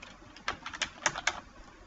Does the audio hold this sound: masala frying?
no